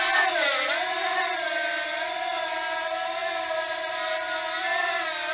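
An MJX X800 six-motor drone hovering in flight, a steady loud high-pitched buzzing whine with slight pitch dips as the throttle shifts, close by and without speech.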